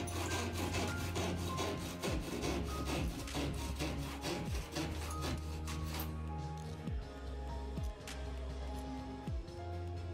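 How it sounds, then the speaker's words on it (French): Wooden chandelier part being shaped by hand, with steady, close rasping and rubbing strokes against the wood that run continuously and loudly with no talking. "je viens de tailler le bois que je vais fixer en haut."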